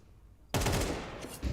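A UMP submachine gun fires in Counter-Strike, a sudden loud automatic burst breaking out of near silence and rattling on for about a second, with a fresh shot at the very end.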